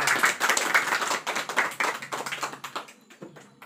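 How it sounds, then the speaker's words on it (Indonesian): A classroom audience claps together after a teacher's cue during a school lesson, a dense run of hand claps that thins into scattered individual claps toward the end, fairly close and without talk. "Tepuk tangan buat kita semua."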